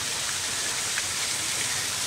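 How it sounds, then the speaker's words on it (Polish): An artificial waterfall at the Opole zoo pours in a constant broad hiss of splashing water, steady and fairly close with no other sound standing out. "Są porobione takie sztuczne wodospady."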